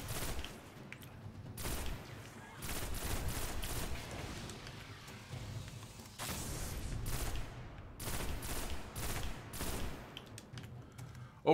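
Oversoul Edict pulse rifle in Destiny during a solo Nightfall strike, sharp bursts of crisp rapid shots repeating in distinct clusters amid lighter clicking combat noise, moderately loud.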